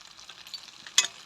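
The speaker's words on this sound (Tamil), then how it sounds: "இது எல்லாத்தையும் நல்லா கிளறணும்." Penne pasta with chilli flakes and salt is stirred in a pan, giving faint, quiet scraping and light sizzling. One brighter clatter of the spoon stands out, with no voices.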